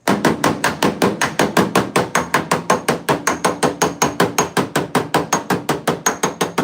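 Rapid, steady hammer blows on metal, dozens of sharp ringing strikes in an even rhythm, loud and close.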